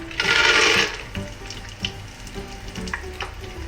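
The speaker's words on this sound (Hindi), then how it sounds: "ये देखिए मूंगफली भुन गई है, ये देखिए चिटक रही है।" Peanuts roast in hot oil with cumin, fennel and curry leaves, opening with a loud rushing sizzle burst that settles into a softer fry dotted with small crackles and pops, close by.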